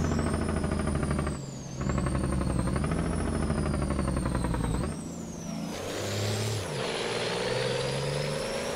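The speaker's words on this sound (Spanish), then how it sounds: "Escuchen su freno de motor." Heavy truck engine brake in American Truck Simulator, the Inter Ranchera rig hauling its own trailer: a loud, rumbling, stuttering roar that drops out briefly, returns, then shifts down and fades in pitch as the truck slows.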